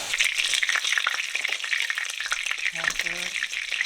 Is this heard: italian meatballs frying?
yes